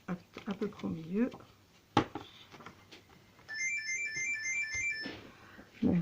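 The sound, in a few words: telephone ringing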